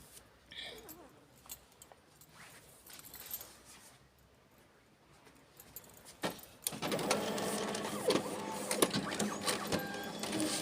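A Samsung CLX-6260FW colour laser printer powers on, starting with faint clicks and then a loud steady mechanical whirr and rattle as it warms up, with a voice speaking briefly early on.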